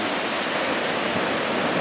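Niagara Falls roars close by, a dense and steady rush of heavy falling water that stays even and unbroken throughout.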